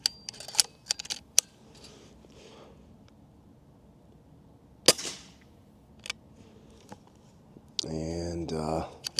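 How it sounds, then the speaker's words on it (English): Air rifle firing pellets, scope set to its night vision mode: a few sharp, close snapping shots spread across several seconds, mixed with mechanical clicks and handling noises, with a short tonal beep or whine near the end. "I'm going to go ahead and take a couple shots on starlight mode."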